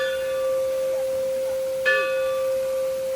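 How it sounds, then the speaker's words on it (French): Temple bell at a Thai temple, a single clear struck tone ringing on with a long sustained hum, followed by a second brighter strike that decays slowly, heard close against soft ambient noise. "sonner la cloche"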